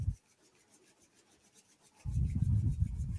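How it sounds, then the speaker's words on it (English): Palms rubbing together briskly to build warmth during a bedtime chair yoga stretch, a soft, close, steady rasping swish that starts abruptly after a quiet pause and continues without talk. "Rub your hands together, generating warmth"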